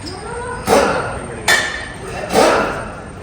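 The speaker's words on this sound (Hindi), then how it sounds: "टायर जो है वो लग गया है, स्क्रू टाइट कर रहा है।" Three sharp metallic bursts from lug screws being tightened on a car tire at a tire shop, each a loud clanking hit followed by a brief ring, spaced about a second apart over steady background noise.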